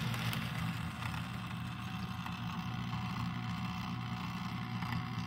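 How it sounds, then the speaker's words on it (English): An Auspower C class model locomotive runs with a constant, loud mechanical whir and buzzing motor hum, steady and close. "That is a super noisy locomotive."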